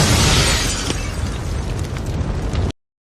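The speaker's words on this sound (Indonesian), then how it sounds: "Slick dan rekan-rekannya pun meledak bersama mobil mereka." A car blows up from a Molotov bomb in a motorcycle gang film, heard as a loud, close explosion with a roaring, crackling blast that cuts off abruptly.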